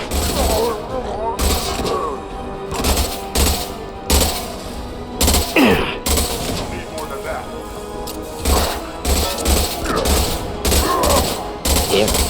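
Repeated bursts of concussive shots and gunfire in the sci-fi shooter Mass Effect 2, loud and close, coming in irregular volleys with short gaps, mixed with combat callouts from voices.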